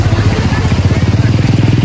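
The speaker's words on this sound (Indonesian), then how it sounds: "Motor." A motorcycle engine runs steadily with a throbbing low rumble and mechanical clatter, close and fairly loud, set beside a fast-flowing river at a collapsed riverbank.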